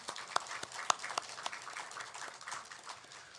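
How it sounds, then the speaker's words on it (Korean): A church congregation claps in welcome for newly registered members, a soft, scattered applause with a few sharper individual claps standing out early, gradually thinning toward the end. "우리 박수로 우리 환영했으면 좋겠습니다"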